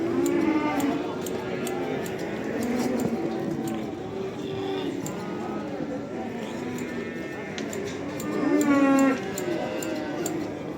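Calves mooing at a busy livestock market, several low, drawn-out calls rising over a constant crowd murmur, with one louder, closer moo near the end and people talking throughout.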